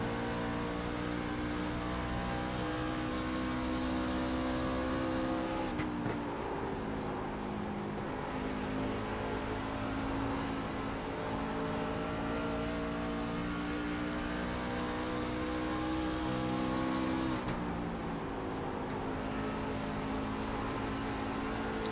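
Racing truck engine on a short-track oval, heard onboard at steady high revs with a continuous loud drone and two brief dips as the driver lifts for the turns, no talking.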